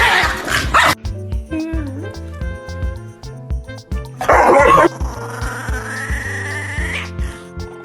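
Dog barking close and loud in a home, a run of sharp repeated barks with brief yips and growly tones, mixed with other noises and background music-like tones.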